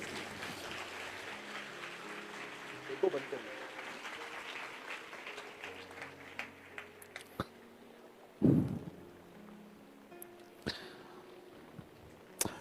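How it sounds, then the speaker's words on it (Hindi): A church congregation applauding for Jesus: fairly faint, steady clapping spread across the room for several seconds, thinning out toward the end with a few scattered louder knocks. "क्या हम ऐसे यीशु के लिए एक जोरदार ताली बजा सकते हैं?"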